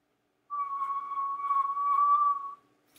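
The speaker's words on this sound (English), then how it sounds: "Just a simple whistle." A person whistles a single clear, sustained note with slight wavering pitch for about two seconds, close and alone against silence.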